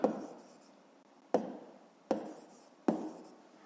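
A pen taps and scratches on paper while a fifth-grade math exercise is written out by hand, four distinct close strokes, each starting with a sharp tick and fading in a short scratchy trail, spaced roughly a second apart.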